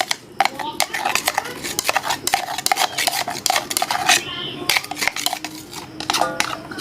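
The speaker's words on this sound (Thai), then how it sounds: "คนให้เขาไม่เป็นก้อนนะ ละลายเสร็จแล้วเราก็เทใส่กะทิลงไปเลยค่ะ" A spoon scrapes and clinks against a pot as a coconut milk mixture is stirred and poured in, giving rapid repeated metallic taps and scrapes close up.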